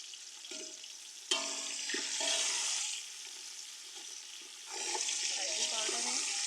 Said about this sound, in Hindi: टमाटर के साथ हम इसको भुनाई करेंगे और साथ में थोड़ी सी हल्दी डालेंगे।